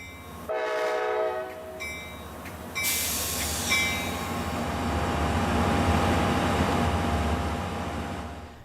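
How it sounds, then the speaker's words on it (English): An Amtrak exhibit train pulls away from Jackson, Michigan, its horn sounding near and loud at the start before the steady rumble and rolling clatter of the cars build and carry on alone. "the exhibit train departed Jackson for its next stop, Milwaukee, Wisconsin"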